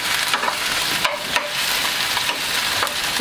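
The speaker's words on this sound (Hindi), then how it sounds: "पहले इसमें डालेंगे बारीक कटा हुआ गार्लिक और जिंजर। इसे अच्छे से फ्राई कर लें।" Finely chopped garlic and ginger frying in a pan, a loud close sizzle broken by repeated stirring scrapes at an uneven pace.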